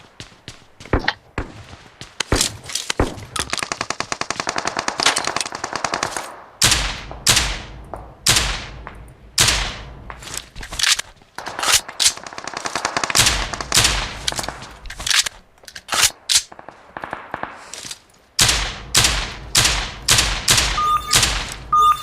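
Desert Eagle pistol fire in a video game: loud, sharp shots come singly and in quick clusters across the stretch, with brief rapid volleys and short pauses between them, and no speech.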